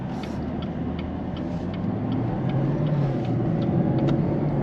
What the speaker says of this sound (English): that big breakaway driving that ZL1